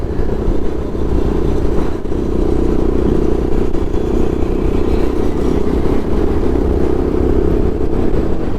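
Motorcycles roar along a busy road in India, a loud, steady engine drone with passing revving and clatter, heard close from a moving bike with no talk.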